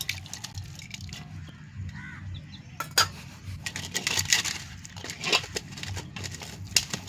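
Wet squelching and splashing as water is worked by hand into a thick masala paste for fish curry, irregular bursts close up against a quiet background hum.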